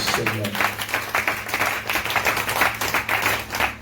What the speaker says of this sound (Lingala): Acclamez très fort pour la gloire de Dieu.